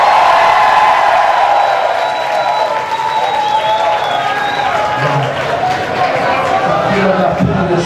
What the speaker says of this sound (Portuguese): Aplausos aqui!